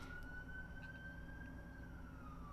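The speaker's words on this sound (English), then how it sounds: "sirens." A single emergency vehicle siren drifts slowly in pitch as a steady tone at a distance, faint against a constant low rumble of background traffic or wind.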